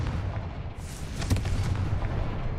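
A Confringo spell in Hogwarts Legacy detonates with a booming, crackling blast that rolls out for about a second over a low rumbling game background.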